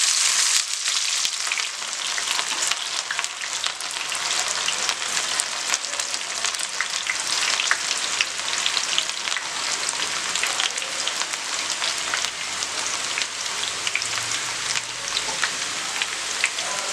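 Remaining onions for chicken dum biryani sizzle steadily in a hot pan, a continuous close crackling hiss with no pauses and no voices.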